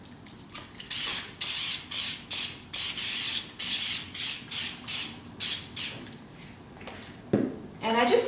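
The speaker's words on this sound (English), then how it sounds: "I'm gonna use non-aerosol spray paint. So there's just, you pump it up, and then you've got a little spray paint feature to this." A non-aerosol pump spray paint bottle sprays onto a canvas over a stencil, about a dozen rapid hissing bursts in a steady rhythm, close and loud, then a brief voice at the end.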